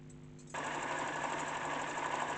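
A sewing machine stitches fabric pieces for an African print kaftan, first a softer whir, then a steady loud close mechanical hum that keeps going without a pause.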